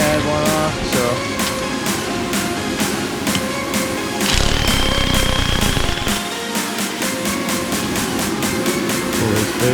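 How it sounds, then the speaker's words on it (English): A power tool, likely an impact wrench, rattles off the last bolts of a wheel spacer on a mud truck, hammering in fast, steady bursts, loud and close, with a heavier stretch in the middle. "I'm gonna take these 2 last bolts off for the spacer."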